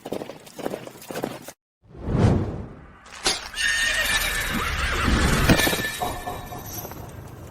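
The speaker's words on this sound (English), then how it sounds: "Looks like Chloe fell off her horse" A horse whinnies loudly at close range, followed by a sustained rush of hooves clip-clopping and scuffling with rising intensity, with no talk over it.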